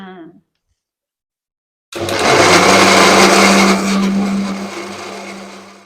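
Mixer grinder blending urad dal into batter; after a short silence the motor starts abruptly and runs loud and steady with a churning whir for several seconds.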